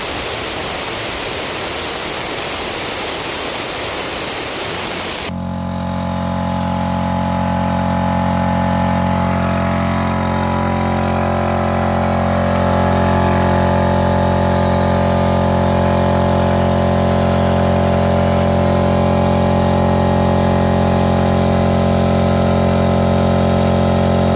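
A loud, steady air compressor drone with a low hum, fitted with a muffler, starts abruptly after a few seconds of hiss and runs continuously to the end.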